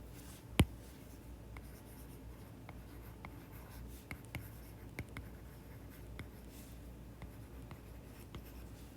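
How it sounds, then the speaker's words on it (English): Quiet scratching of a pen writing notes on a note guide for a physics lesson, with faint intermittent strokes and small taps, plus one sharp click near the start, against a soft room hiss. "Let me write that over."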